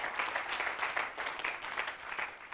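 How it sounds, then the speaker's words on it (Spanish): Church congregation clapping in praise during a sermon, a steady moderate patter of many hands, somewhat distant and fairly quiet, with a faint voice underneath. "Dele un aplauso al Señor"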